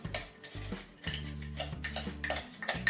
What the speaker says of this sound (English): got a little queso left, got crumbs, just dump them in there,